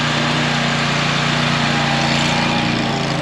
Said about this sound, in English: Gavin, you rode the lawnmower all the way back here.